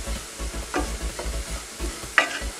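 A spoon stirs and scrapes chili powders roasting in a pan for a squid (kanava) roast, giving a steady rhythm of soft scraping strokes over a low sizzle, with one sharper scrape near the end.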